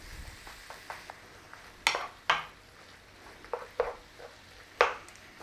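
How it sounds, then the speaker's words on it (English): Beef mince for a keema pie is pressed down and broken up in a pan, with a soft sizzle underneath and several sharp, irregular clacks of a utensil against the pan, fairly close. "Squash it in, press it down, break up your mince"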